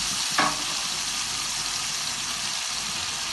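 Boiled potatoes sizzle and fry steadily in hot oil in a pan, a constant close crackling hiss with one brief louder burst near the start and no talk.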